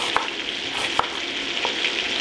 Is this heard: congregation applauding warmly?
no